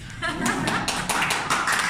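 A training-class audience claps hands in a dense, close burst of overlapping claps, while a voice speaks over the clapping.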